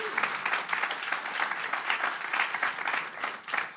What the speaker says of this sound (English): Y'all clap it up for our CEO.